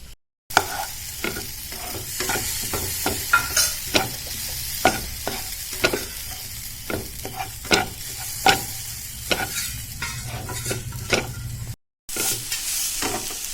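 Dry scraping and stirring of ground coconut roasting in a pan, with repeated spatula scrapes at an irregular rhythm and a faint sizzle, close by, with no voices.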